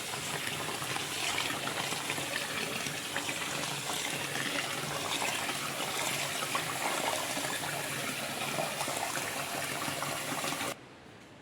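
Water running into a bowl of jeerakasala rice set to soak, a steady rushing pour lasting about ten seconds before cutting off abruptly, no speech.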